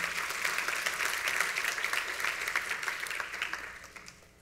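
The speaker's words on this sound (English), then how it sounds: "We can clap for that." A church congregation breaks into applause during a sermon, a close, dense burst of clapping that gradually thins and fades toward the end.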